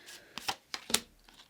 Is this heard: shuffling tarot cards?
yes